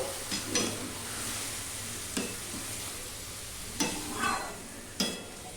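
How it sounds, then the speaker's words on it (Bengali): Cabbage stirred in a frying pan, a steady sizzle broken by several sharp scraping strokes of the spoon against the pan, close by with no talking. "এখানে ঢেলে দিলাম। এবার একটু নাড়বো।"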